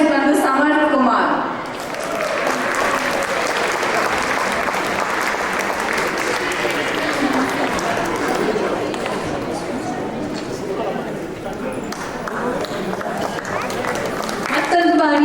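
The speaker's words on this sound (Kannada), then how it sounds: "ಮತ್ತೊಂದು ಬಾರಿ ಎಲ್ಲ ಮಕ್ಕಳಿಗೂ ಜೋರಾಗಿ ಚಪ್ಪಾಳೆ" Loud, sustained applause from an audience honouring children at a Ganesh Chaturthi cultural program, a dense clapping wash lasting the whole stretch with faint chatter underneath.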